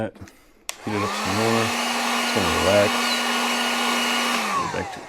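A heat gun warms a plastic part while a BMW light housing is being repaired. Its blower switches on with a sharp click and keeps up a strong, steady whoosh and hum, with brief bits of voice underneath.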